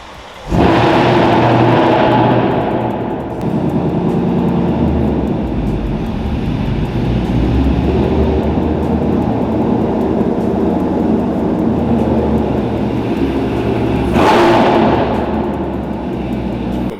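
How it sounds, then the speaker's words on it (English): A loud car engine idles with a constant heavy roar inside a garage, swelling briefly at the start and again near the end. "I just realized how insanely loud this car is"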